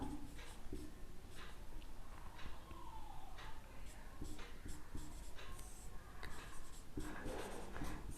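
Chalk or marker scratches and taps across a board during a chemistry lesson, with short strokes over a steady, noisy room background and a voice speaking now and then.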